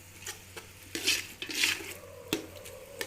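Chana dal being stirred in a metal pot for a sabzi with cabbage, a few close scraping and clinking strokes of a spoon against the pot, soft and intermittent over a quiet kitchen hum, with no talking.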